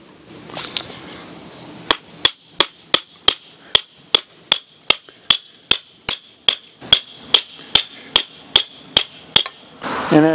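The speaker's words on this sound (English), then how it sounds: "we just secure the straps to the ground with more stakes" A hammer strikes metal stakes into the ground to secure awning stabilizer straps, about twenty sharp, evenly spaced ringing blows, close and loud, with no talking.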